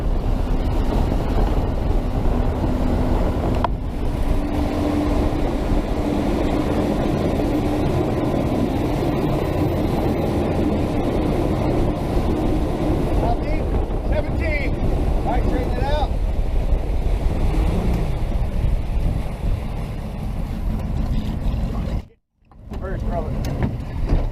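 A boat runs fast while cast netting for baitfish, giving a loud steady motor roar mixed with wind buffeting and water noise. A brief dropout comes near the end, and speech may be present under the noise.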